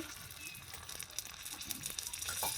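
Water poured into a pot of potatoes frying for egg biryani sets off a steady, faint hiss and crackle of sizzling that lasts throughout.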